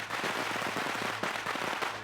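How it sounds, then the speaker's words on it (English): Fireworks go off in a rapid crackle of dense, popping bursts, like a string of firecrackers. They are loud and continuous throughout, with no talk over them. "what's with these fireworks and electrical issues in these schools?"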